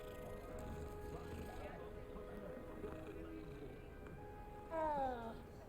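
A cat in Hogwarts Legacy gives a short, rising meow near the end, faint under a quiet, droning game ambience with low hums and soft background noise.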